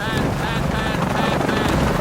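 Helicopter engine stalling in Shadow of the Tomb Raider: a steady, loud rotor and engine roar with a whining tone, running continuously as voices talk over it.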